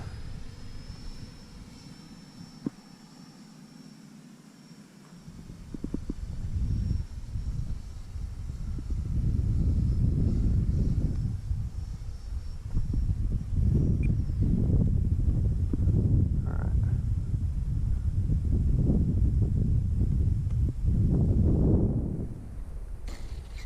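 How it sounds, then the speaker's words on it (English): Strong gusty crosswind roars in heavy low rumbling bursts, with a faint steady whine from an RC electric ducted fan jet, a Marlin EDF by Arrows RC, running underneath throughout. "It is so windy today, and it's a cross breeze at that."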